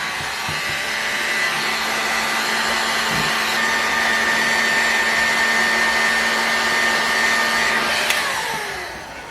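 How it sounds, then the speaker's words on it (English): A heat gun blows steadily and loudly against a model airplane engine crankcase, an OS 32F-HX, to free its bearings, a continuous close-up roar with no voices. "let's go ahead and just heat this thing up, this crankcase up real quick, and get some bearings taken out"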